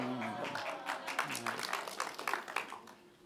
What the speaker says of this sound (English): kind of want to go out on an applause like that